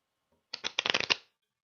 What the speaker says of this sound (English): Gonna give us a nice shuffle.